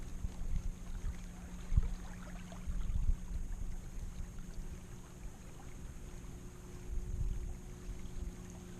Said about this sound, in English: Still hear that boat's cranking going down that stretch over there.